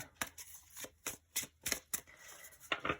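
A deck of tarot cards is shuffled by hand close to the microphone, giving quiet, crisp riffling bursts that come in an irregular series of about a dozen brief flutters.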